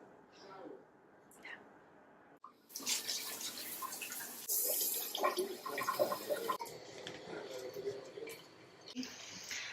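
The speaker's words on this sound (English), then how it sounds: "I'm gonna wash the toilets" Running water splashes and gushes unevenly as toilets are washed, with a voice heard faintly at times.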